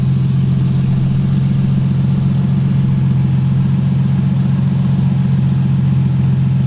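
A loud car with a rear-mounted turbo idles nearby in a steady, unbroken low drone with a strong rumbling hum and no revving.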